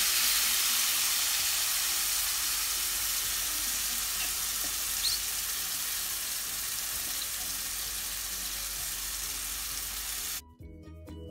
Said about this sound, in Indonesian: Tumis bumbu yang dihaluskan